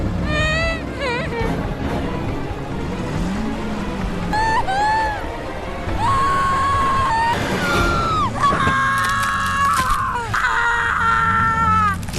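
A girl's screams for help in a story sound effect, loud and drawn out, mixed with dense background noise, engine-like rumble and other dramatic effects.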